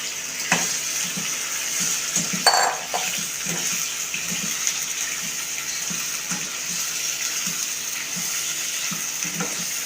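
Fish pieces frying in a pan of hot oil for a Bengali fish curry, a steady close sizzle with soft crackles and occasional stirring clinks throughout, no talking.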